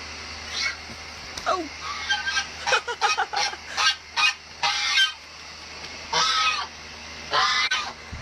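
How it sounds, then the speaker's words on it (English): A goose honking dramatically, loud close repeated honks and squawks in uneven bursts over faint background noise. "This may be the most dramatic goose on Earth."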